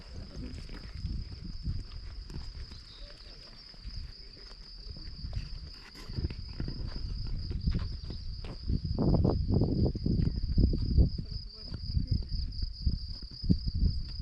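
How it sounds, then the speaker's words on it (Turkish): Grasshoppers in a flower meadow near Sankt Koloman, Austria, keep up a steady, high continuous chirring throughout, with rustling, footsteps and occasional voices underneath. "Çekirgeler bak çıkır çıkır çıkır çıkır çıkır çıkır."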